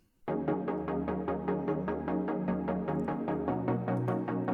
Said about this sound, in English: what I added was some chord plucks that I use also all the time.